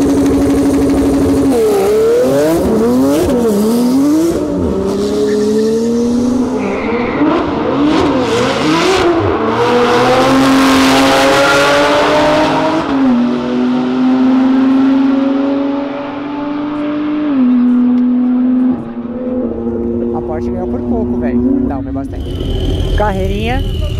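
A 750 hp Porsche revs and accelerates hard, loud engine notes climbing in repeated pulls and gear shifts, then settling into a steady roar as it runs past, with voices in the background.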